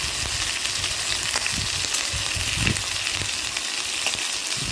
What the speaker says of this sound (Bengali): পটলগুলো ভালো করে ভাজতে হবে, নাহলে কাঁচা কাঁচা লাগে